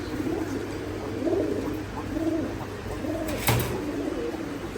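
Red Musaldom pigeons coo in soft repeated rolling phrases against a steady background hum, with one brief sharp knock partway through; no one speaks.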